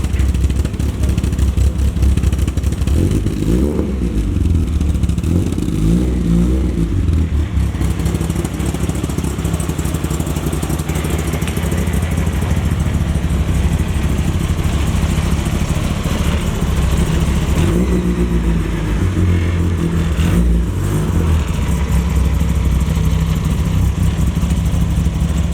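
Car engine fitted with a homemade velocity stack idling as it warms up, a steady low rumble broken by a few short revs that rise and fall, close and loud with no talking.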